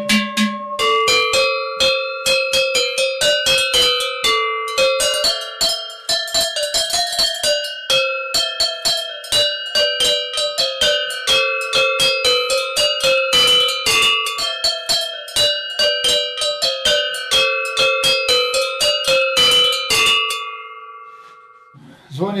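Handmade folk cowbells from Slovakia ring in a dense, continuous jangle for over twenty seconds, several bright metallic bells clanging together loudly and close, with a brief voice at the very end.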